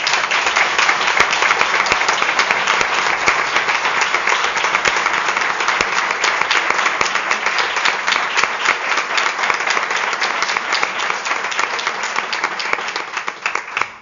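Sustained, loud applause from a crowd at a town council mayoral investiture, honouring the late mayor, dense continuous clapping that holds steady throughout and tapers slightly at the end.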